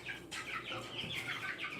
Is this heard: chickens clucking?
yes